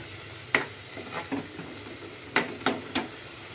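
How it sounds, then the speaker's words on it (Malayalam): Green chilli, ginger, curry leaves and tamarind sautéing in a pan for a mackerel curry, with a soft steady sizzle broken by a few sharp scraping stirs near the start and again toward the end. "പച്ചമുളക്, ഇഞ്ചി, വേപ്പില എല്ലാം, പുളിയും എല്ലാം ഇട്ടൊന്ന് നന്നായിട്ട് വഴറ്റണം"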